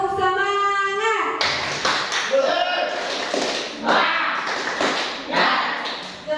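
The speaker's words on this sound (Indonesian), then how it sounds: "Tepuk semangat" A group of teachers in a training session performing the rhythmic Indonesian 'tepuk semangat' spirit clap; after a brief tone, bursts of patterned claps arrive in uneven clusters, with voices calling along between them.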